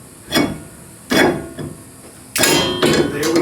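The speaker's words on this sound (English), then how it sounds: "Let's go ahead, throw our dual drilled K&S rotor." A dual drilled K&S brake rotor is slid onto a car hub during a wheel lug pattern upgrade on an FRS/BRZ, giving several loud, close metallic scrapes and clanks in separate bursts with brief gaps between them.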